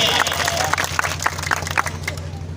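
An audience at a school annual function claps to welcome a guest, a short burst of crowd applause over a steady mains hum.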